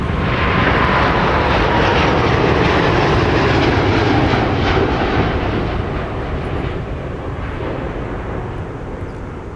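A Delta Airbus A350-900 climbing out after takeoff at Minneapolis–St. Paul Airport, its jet engines giving a loud, continuous broadband roar that fades gradually as it gains altitude.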